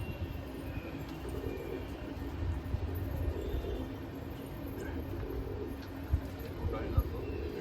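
Low, soft pigeon cooing blends into a steady rumbling background, with a few faint knocks near the end.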